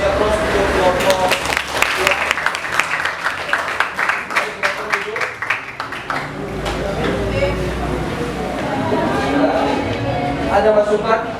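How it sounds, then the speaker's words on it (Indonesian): Classroom audience claps for a presenting student group, a few seconds of brisk, fairly close applause from a small crowd that fades into murmuring and talk. "Kita kasih aplaus untuk kelompok."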